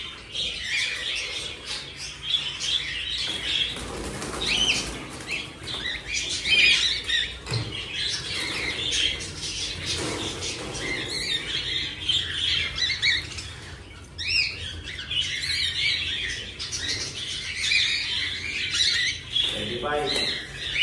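Birds calling and squawking with wing flapping at a farm harvest, a busy, continuous chorus of chirps and squawks close by throughout.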